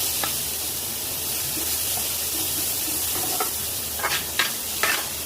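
Grated bottle gourd frying in a tablespoon of ghee, a soft continuous sizzle with a few brief stirring scrapes near the end.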